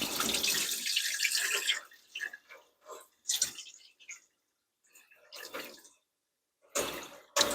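Tap water gushing loudly into a sink while rice is rinsed, then breaking into intermittent splashes and sloshes with quiet gaps between.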